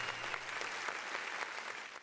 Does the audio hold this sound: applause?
yes